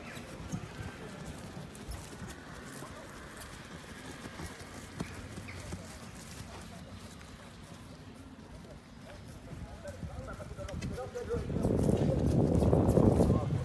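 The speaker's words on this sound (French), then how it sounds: "On va trotter. 1. Au trot." A horse trots around a sales ring at a 2018 horse sale show, its hoofbeats a steady, moderately near clip-clop under an announcer's continuous talk, swelling louder toward the end.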